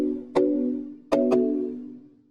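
Synthesizer pluck notes without any added noise layer, three clean tonal hits with sharp attacks, the last two close together, each ringing and fading out, fairly quiet with no talking.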